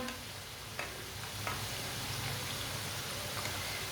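Namak pare dough frying in oil over low heat, giving a soft, continuous sizzle and bubbling crackle with a few sharper pops, fairly quiet and without any talk.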